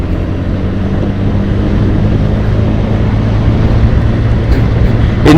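A Honda PCX scooter is ridden fast, its engine drone buried under heavy, constant wind rush over the microphone, loud and unbroken.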